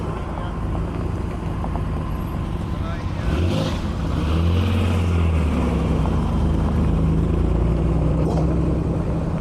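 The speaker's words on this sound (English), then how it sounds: "And then the Tamura's leaving." TVR Tamora sports car pulling away among other cars, a deep engine note rising in pitch through revs as it drives off, with people talking nearby over the rumble.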